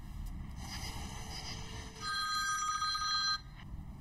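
Telephone ringing over a car's engine hum, a short buzz followed by a sustained electronic ring that cuts off after about a second and a half, fairly faint with no talk.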